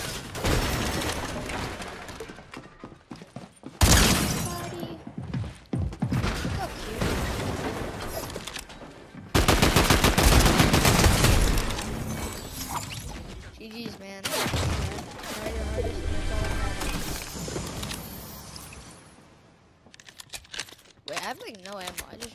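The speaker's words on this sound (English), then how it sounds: "Shooting at me, bro." Gunfire in the Fortnite video game, chapter 5 season 2: loud rapid bursts of shots and booming impacts that come in dense volleys and fill most of the stretch, and a voice talks over the shooting.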